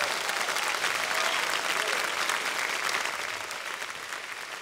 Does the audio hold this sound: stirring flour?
no